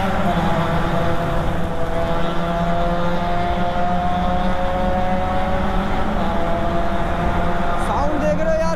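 A vehicle engine roars steadily inside a tunnel in the Aravalli Hills, a loud, droning, echoing hum with strong harmonic tones that holds throughout.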